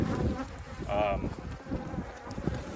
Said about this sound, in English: I hope my camera isn't too blurry from all the bees hitting it